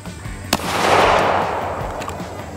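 A single sharp gunshot cracks near, aimed at tape on a Titanium Ridge wallet, followed by a broad roaring echo that swells and slowly fades, with a faint second pop near the end.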